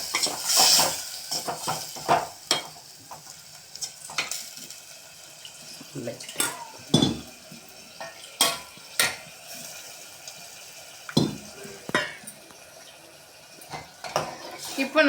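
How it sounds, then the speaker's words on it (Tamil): A ladle stirring potato masala in a pan, close metallic clinks and scrapes repeating at an uneven rhythm over a faint background hiss, with a few louder knocks against the pan. "இப்போ நம்ம கரண்டி வச்சு நல்லா அது மாதிரி கிளறி விட்டுக்கோங்க"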